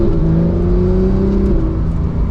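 A 991.2 Porsche 911 GT3 pulls away gently from inside the cabin, a loud, smooth engine drone with tones that rise slowly and then settle.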